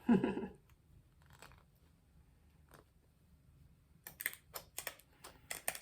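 Scissors snip through pipe cleaners in a quick run of light, crisp clicks near the end, close by, after a brief bump and a mostly quiet stretch.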